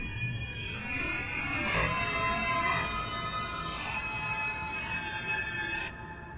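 Dry psytrance foley: a vocal 'ooh' stretched far beyond its length into a wavering, metallic tone with gliding pitch sweeps, sustained for about six seconds before dropping off near the end, no voices.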